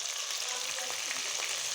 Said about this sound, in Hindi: थोड़ा सा लगाया पानी का छींटा।